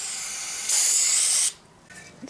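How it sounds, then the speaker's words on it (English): Brake cleaner sprayed from an aerosol can onto a dirty differential cover of a GM 10-bolt rear end, a steady loud hiss that grows stronger mid-burst and then cuts off. "This is greatly assisted by our good friend brake cleaner."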